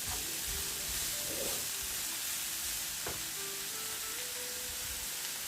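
Chopped pumpkin leaves frying in oil with turmeric in a pan, a steady moderate sizzle with a brief stirring scrape partway through and no voices.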